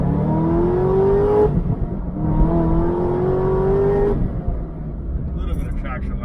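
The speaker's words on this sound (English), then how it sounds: "We'll do a quick first to second and a little bit of third gear," A Chevy Corvette ZR1 sports car accelerates hard from inside the cabin. The engine note climbs steeply in two long pulls with a brief gap at the gear change, then eases off at the end, with a voice talking over it.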